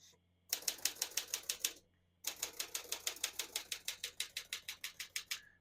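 Crisp bursts of keystrokes on a Smith-Corona Silent vintage portable typewriter, two quick runs of rhythmic clacks separated by a short pause, close and clear with no talking.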